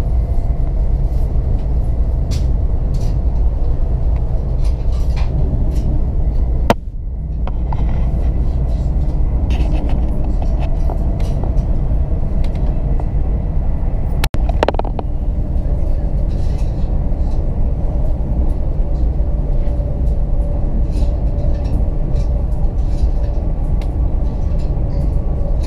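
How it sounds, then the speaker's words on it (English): Interior of a Hitachi 800 passenger train running between Cardiff and Swansea near Bridgend, a steady low rumble and rolling hum throughout with brief louder jolts, no talking over it. "And here we have the interior of the train again."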